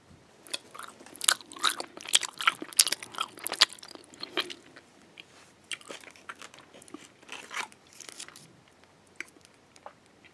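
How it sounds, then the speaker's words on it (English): Crunchy bites and close chewing of Ritter Sport milk chocolate with hazelnuts, 35% cacao, in a run of crisp, irregular crunches and mouth sounds, loudest early and then softer, with no talking. "Ritter Sport"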